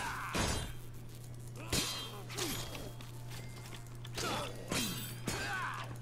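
A machine being smashed in the video game Dead Rising 2, with a series of sharp crashing and clanging hits, about five or six of them spaced irregularly, over a steady low hum. A voice is faintly present.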